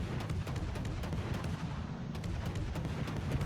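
Naval gunfire from enemy warships in the World of Warships video game, a dense rolling barrage of heavy booming shots layered over a constant low rumble, steady and fairly loud with no voices.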